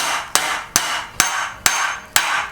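Five sharp metallic taps hammered at an even pace into a bicycle steer tube while installing a Specialized EMT hidden chain tool, each a bright hit with a short ring, close by.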